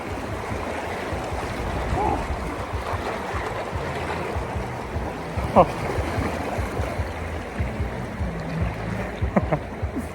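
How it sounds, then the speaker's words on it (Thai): Steady rushing water surges and churns continuously, like a fast river current, with a few faint clicks and knocks over the top. "โอ้น้ำแรงแล้วทุกคน อ้เชี่ยไหลแรงมากทุกคน"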